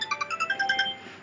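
A mobile phone ringtone plays a quick run of bright electronic notes, rising and falling in a rapid melodic pattern, fairly loud and alone before it cuts off.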